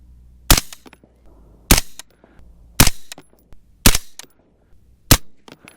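Five sharp rifle shots from a Uintah Precision UPR15 in .223 Remington, fired singly at intervals of about a second, each loud crack followed by a brief ringing decay with quiet pauses between.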